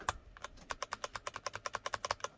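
Light, steady typing on a computer keyboard with rubber o-ring dampeners fitted under the keycaps, each keystroke a soft, muted click in a quick, even rhythm, close and quiet, with no voices.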